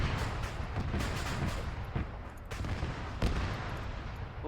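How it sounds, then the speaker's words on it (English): Vehicles blow up in the Arma 3 military video game, a rumbling, booming barrage of blasts with several sharp cracks punctuating a continuous roar, moderately loud with no talking. "Oh, that's the sound of this blowing up."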